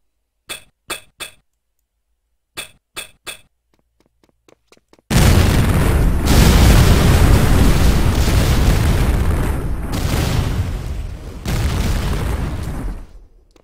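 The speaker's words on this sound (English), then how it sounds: "With the primary fire, you have control over when the cluster bomb will go off" Demon Throne cluster bomb in a video game: a few sharp clinking clicks, a pause, then a sudden loud explosive burst that keeps roaring and rumbling, dipping once before a final blast.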